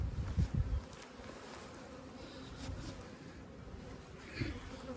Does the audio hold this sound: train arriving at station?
no